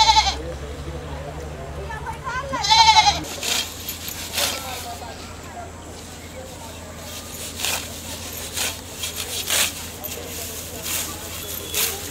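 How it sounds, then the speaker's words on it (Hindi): A goat bleats in a rural Maithili village scene, one wavering cry heard amid ongoing talk from people nearby. "ओ रे बकरी रोक"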